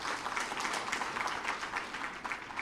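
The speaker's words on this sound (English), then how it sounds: "Kindly let us clap as if we are chasing a thief." An audience at a university freshers' orientation claps steadily, a faint, even patter of many hands continuing without a break.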